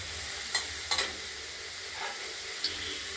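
Radish greens frying in oil in a wok, a constant close hissing sizzle broken by a few sharp spatula scrapes against the pan, with no speech.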